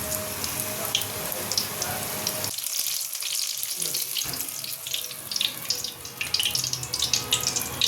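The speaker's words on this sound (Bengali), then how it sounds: "একদম গরম ফুটন্ত তেলের মধ্যে দিয়ে দিয়েছি" Chicken sate pieces dropped into very hot bubbling oil, giving a steady close sizzling hiss that briefly drops away in the middle before resuming, with kitchen clatter and a few faint voices around.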